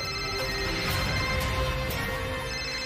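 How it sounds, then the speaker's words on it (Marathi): A phone rings steadily in a repeating electronic tone, fairly loud and continuous, with no talk over it. "माझा फोन आईंचा असणार."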